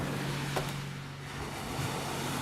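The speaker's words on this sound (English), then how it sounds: "I love the sound of seagulls and waves, and the waves are coming in." Ocean waves come in on the shore as a steady, broad wash of surf with a low constant hum beneath it, close and fairly loud throughout.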